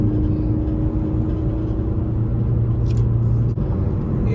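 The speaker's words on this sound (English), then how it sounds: "Let's give it a little throttle." Ford Focus ST fitted with a Borla S-Type exhaust pulling on a highway under light throttle, a steady low engine drone and road rumble heard from inside the cabin, fairly loud and continuous with a faint brief tick near the end.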